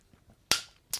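During a Bible teaching session about Jesus Christ, two sharp, loud claps ring out close by, roughly half a second apart, against near silence.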